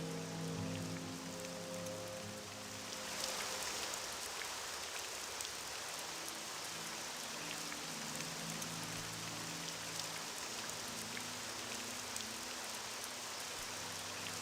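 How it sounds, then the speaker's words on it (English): Steady rainfall in the video game Morrowind running on OpenMW, a constant hiss of drops on surfaces, with a low tonal hum fading out in the first few seconds. "The rain's a little loud"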